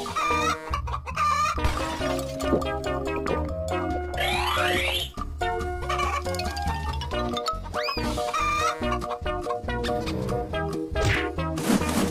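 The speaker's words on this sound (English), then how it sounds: "Chicken." Cartoon chicken clucking mixed into a busy, loud music track, with repeated clucks and squawks, comic sliding effects and a crowing-like call over a dense rhythmic backing.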